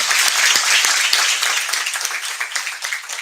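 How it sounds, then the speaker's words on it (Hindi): Audience applause at a civil-service toppers' talk event, dense clapping from many hands that starts strong and gradually thins into scattered claps. "एक बार जोरदार ताली यार इसके लिए।"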